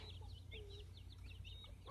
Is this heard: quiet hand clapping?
no